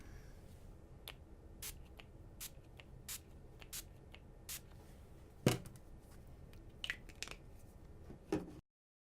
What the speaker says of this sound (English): we're gonna spray it using a finishing spray